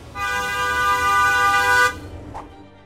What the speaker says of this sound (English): while a car horn is about 90 decibels.